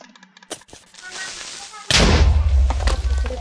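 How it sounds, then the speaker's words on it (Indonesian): A loud, booming Minecraft creeper explosion bursts in suddenly, followed by a sustained low rumble, with scattered clicks and thumps just before it. "Creepernya meledak."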